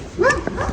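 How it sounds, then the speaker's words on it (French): A dog gives one short, sharp bark up close, followed by a faint rustle, with no talking. "Il y a un chien."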